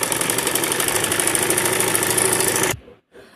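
An electric sewing machine runs a straight seam along a blouse sleeve, its motor giving a loud, steady whir for nearly three seconds before cutting off abruptly into near silence.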